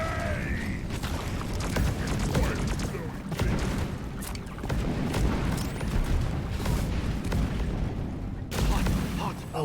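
A toxic grenade going off in Deep Rock Galactic among rattling gunfire, booming blasts and mechanical clanks, loud bursts recurring over several seconds with a player's voice talking over the action.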